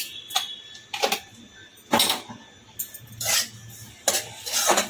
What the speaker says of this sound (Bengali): চিনিটা দিয়ে একটু ভালো করে মিশিয়ে নিচ্ছি